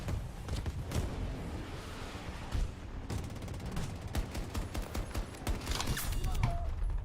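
Gunfire in Battlefield 2042 crackles in dense bursts and rapid automatic volleys, loud and close, mixed with distant shots while someone talks over the battle.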